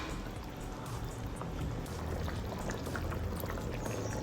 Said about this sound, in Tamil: புளியை ஊற்றிட்டேன் அந்த புளி வாசனை போகிற வரைக்கும் கொதிக்கட்டும்